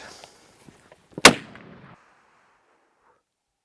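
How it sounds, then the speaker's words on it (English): A single loud rifle shot during a buffalo hunt cracks sharply and then fades into a short echoing tail, with faint small clicks before it and quiet afterward. "How do you feel on that first shot?"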